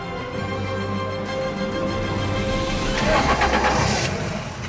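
Van engine turning over repeatedly without catching, a steady whirring crank under a continuous engine hum, fairly close, with no speech.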